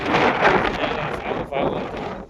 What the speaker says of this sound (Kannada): ಗಾಳಿ ಮೇಲೆ ಸಿಕ್ಕಾಪಟ್ಟೆ ಅಂದರೆ ಸಿಕ್ಕಾಪಟ್ಟೆ ತುಂಬ ಹೊಡಿದೆ